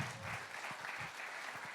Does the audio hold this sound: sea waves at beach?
no